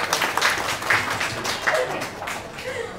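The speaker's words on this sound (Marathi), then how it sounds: "त्यामुळे कावेरीसाठी आत्ताच आपण टाळ्या वाजवूया." Audience clapping at a book launch, a steady patter of applause filling the room for about three seconds at moderate loudness, with faint voices mixed in.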